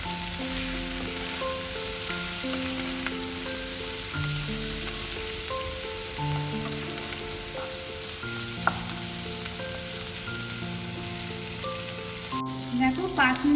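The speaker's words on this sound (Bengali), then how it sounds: "দেখো 5 মিনিট ধরে আমি মাঝারি গ্যাসে এটা ভেজে নিলাম, পেঁয়াজগুলো, মাশরুম আর পেঁয়াজটা।" Onions and mushrooms sizzle steadily in a pan over a medium gas flame, a close, continuous frying hiss with light stirring, while music plays underneath.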